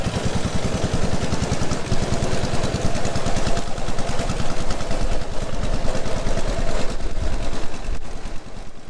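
A 1927 Douglas works race motorcycle ridden down through a museum entrance gate: a loud, rapid, throbbing engine beat that stays close and steady throughout, with no voices.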